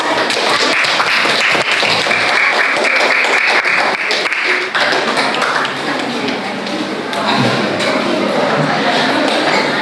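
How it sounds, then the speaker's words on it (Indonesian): Classroom applause from students during a teaching session, loud, close and continuous, with crowd chatter mixed into the clapping throughout. "sekali lagi tepuk tangan untuk"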